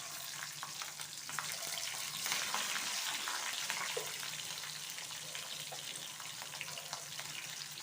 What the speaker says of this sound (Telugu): పచ్చిమిర్చి ఇలా సగం దోరగా వేగితే చాలండి